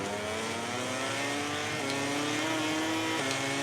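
A racing motorcycle accelerating hard in the video game MotoGP 18, a loud, steady engine whine rising in pitch through the gears with brief dips at two quick upshifts, alone without talk.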